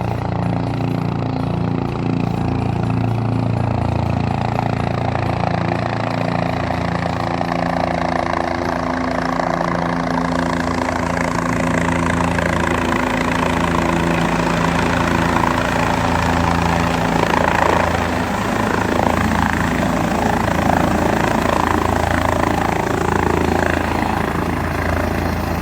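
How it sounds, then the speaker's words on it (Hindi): A helicopter approaches through the mountain valleys around Kedarnath, its steady rotor thump and engine drone loud and continuous throughout, with the throbbing building slightly as it nears. "इन ब्यूटीफुल वादियों में से हेलीकॉप्टर आता हुआ अब आपको नज़र आ रहा है।"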